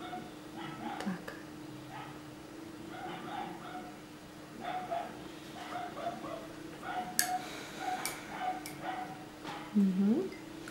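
Several dogs bark and yip intermittently at a distance, with a short whimpering yelp near the end, over a steady background hum.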